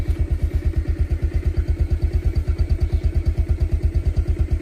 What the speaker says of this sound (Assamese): এয়া বাইক লৈ গৈছোঁ